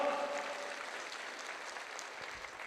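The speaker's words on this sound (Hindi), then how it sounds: "बहुत जोरदार तालियां, बहुत जोरदार।" A lecture audience at a training event in Lucknow claps together, a dense, even patter of many hands held at a moderate distance, fairly quiet and steady for a few seconds without talk.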